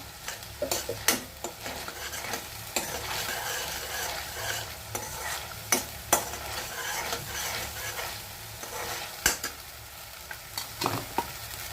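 Green chillies frying in a pan for prawn masala make a soft, continuous sizzle, broken by repeated sharp clicks and scrapes from stirring.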